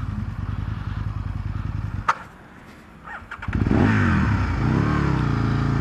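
A motorcycle engine, apparently an Italian bike, runs with a steady loud chug, cuts out abruptly when it stalls with the clutch in, goes quiet for about a second, then a clatter and restart lead into loud rising revs.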